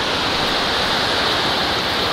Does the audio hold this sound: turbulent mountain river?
yes